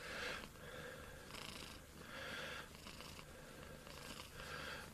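A cat purrs close up in slow, even cycles of soft rumbling breaths, quiet and steady with no talk.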